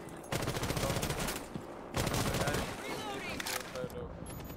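Bursts of gunfire from a competitive shooter match between MG and JAHAL in a quarter-final, loud rapid volleys in two clusters under a commentator's voice.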